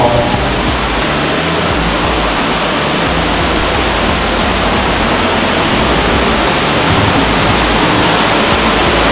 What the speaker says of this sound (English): It leads to this waterfall.